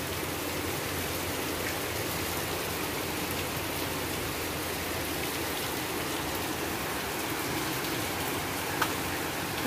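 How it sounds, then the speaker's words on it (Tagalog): Heavy rain falls steadily outdoors beside a well and hut under construction, a dense, even hiss of drops with no pauses and no talking. "Lumakas na po yung ulan."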